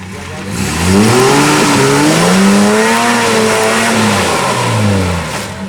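A GU four-wheel drive, last vehicle in a convoy, labours along a forest track in Bunyip Forest, its engine revving loud and near with pitch rising and falling as it pushes through, no voices over it.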